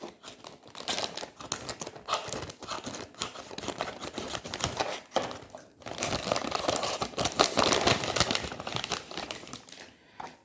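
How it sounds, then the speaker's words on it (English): A sterile pouch holding a petri dish is cut open, giving close, crinkly plastic rustling with sharp crackles and snips that come in irregular bursts and grow busier toward the end. "So I am cut opening this one. This is a sterile pouch."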